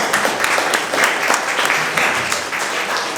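A comedy club crowd claps hands, a loud, close, continuous patter of many hands with slight swells, filling the whole short stretch.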